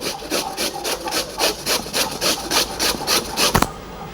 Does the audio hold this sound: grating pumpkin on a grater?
yes